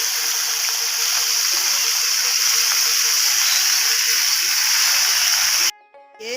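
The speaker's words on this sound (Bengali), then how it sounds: "পেঁপে শাকগুলো দিয়ে দিচ্ছি" Papaya greens hit a hot frying pan and sizzle in a loud, steady hiss that holds evenly, then cuts off abruptly near the end.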